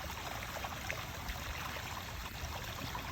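Water flowing out of a French drain and sump pump discharge, a steady rushing trickle of moderate strength with no pauses.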